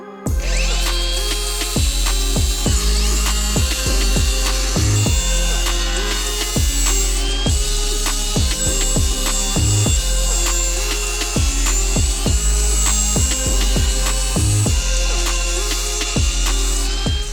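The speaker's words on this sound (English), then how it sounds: "got me a little flapper disc, some 80 grit, and we're gonna use this" Angle grinder with an 80-grit flap disc working the firewall of an old C10 truck, loud and close, with a continuous whine broken by repeated sharp bursts of grinding.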